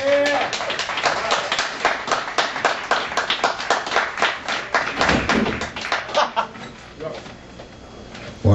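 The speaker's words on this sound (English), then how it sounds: "please give a round of applause for the truck driving king of the blues" An audience at a live solo blues show in Nashville applauds the bluesman, a run of sharp, fairly close claps that thins toward the end, with some thumps and voices mixed in.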